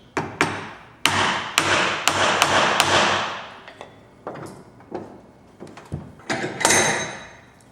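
A chisel is struck repeatedly with a mallet while chopping a stub mortise in wood, producing a run of sharp, close knocks in uneven rhythm, some rapid and some spaced apart, with lighter taps between.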